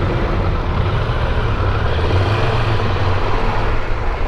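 A Triumph Tiger 1200 Rally Explorer motorcycle on the move, a steady loud engine drone mixed with rushing wind noise, continuous and unbroken with no voices.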